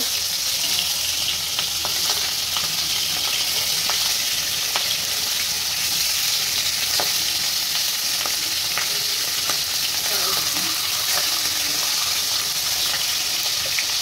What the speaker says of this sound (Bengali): এখন মাছ আমরা উল্টে দিব।